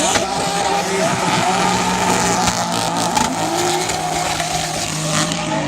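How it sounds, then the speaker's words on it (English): A BMW drift car at a Formula Drift Pro-Am round at Hyperfest initiates its slide, with loud sustained engine roar and tire squeal amid continuous racing noise from nearby cars. "Talaska initiates early with that BMW."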